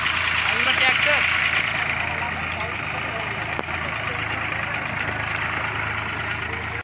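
A tractor engine idles steadily in a rural farm setting, a continuous low rumble running throughout with little change, while people talk nearby.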